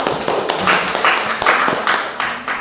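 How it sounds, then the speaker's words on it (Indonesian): A classroom group claps during a teaching-practice lesson, with a few close, uneven bursts of applause that swell and fade across the short stretch. "Kasih tepuk tangan."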